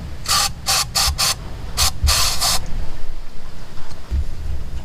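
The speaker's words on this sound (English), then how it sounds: "And give this a spray." Several short hissing bursts of aerosol cleaner sprayed into the throttle body of a 2006 Scion xB, four quick ones then two more, close and sharp, with a low mechanical rumble underneath.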